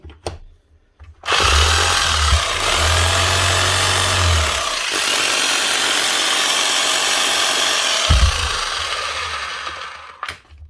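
A 2022 Hikoki H41 MB2 demolition hammer with worn-out brushes runs loud and continuous for about nine seconds, a harsh, rough motor roar with a faint low hum early on, starting and stopping abruptly.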